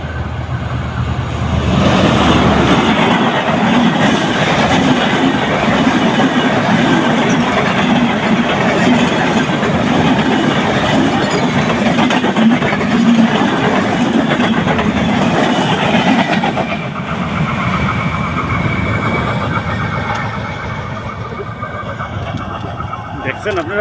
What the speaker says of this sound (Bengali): এই যে ট্রেন আসছে।